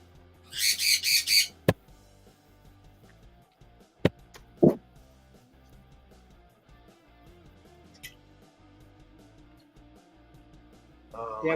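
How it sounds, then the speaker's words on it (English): Pet birds squawk loudly indoors in a few sharp, piercing bursts, separated by quieter stretches with a low background hum and faint voices. "in between the loud bird yelling"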